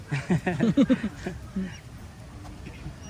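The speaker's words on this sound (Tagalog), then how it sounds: "Ito yung pabo na nanghahabol ng tao." A rapid burst of loud, throaty gobbling calls from a nearby turkey at a river park, followed by quieter ambient noise.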